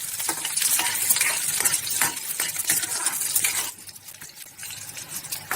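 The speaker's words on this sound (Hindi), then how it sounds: "अब हम इसमें ये चॉप करे हुए जिंजर, गार्लिक और ग्रीन चिली को इसमें डाल देंगे" Chopped ginger, garlic and green chili frying in hot oil, with a steady bright sizzle and the repeated scrape and clink of a spoon stirring the pan, louder at first and then easing.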